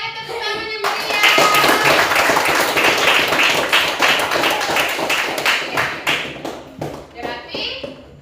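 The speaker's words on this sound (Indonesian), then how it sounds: "ayo tepuk tangan yang meriah." An Indonesian classroom bursts into sustained clapping and applause from many hands at the teacher's call, loud and steady for several seconds before tapering, with children's voices mixed in.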